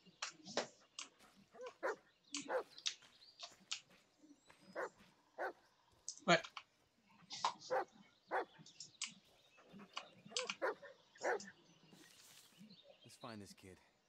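Dog in the Blair Witch video game giving a string of short barks and yips, fairly close, spaced irregularly with brief whimpers and softer sounds between them.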